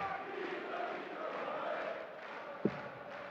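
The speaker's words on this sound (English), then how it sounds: "And the crowd, the Peter Wright fans in the crowd, find their voice once again" Peter Wright supporters in the crowd at the 2018 European Darts Open final cheer and chant, a broad, steady roar of many voices filling the hall, with one short sharp knock near the end.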